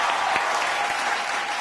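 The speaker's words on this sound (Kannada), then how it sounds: "ಚಿತ್ರಗೆ ಬರಲಿ ಮತ್ತೊಮ್ಮೆ ಜೋರ ಚಪ್ಪಾಳೆ." Warm studio audience applause rings out for the winning contestant of a Kannada TV game show, steady and sustained for a moment without talk over it.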